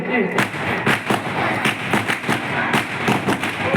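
A rapid string of sharp firecracker bangs crackles on and off, loud and close, with a busy crowd murmur underneath, at a village Krishna birth celebration.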